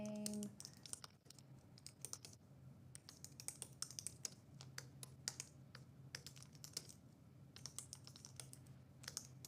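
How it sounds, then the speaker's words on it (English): Typing on a computer keyboard, rapid close-up key clicks in uneven bursts running continuously under a low steady hum, with no talking. "I'm typing all of this out"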